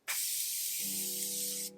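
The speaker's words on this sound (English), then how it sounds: "Let's spray my face real quick as the first setting" Morphe Continuous Setting Mist sprayed onto a face, one steady close hissing burst lasting under two seconds with a faint tone underneath, alone without speech.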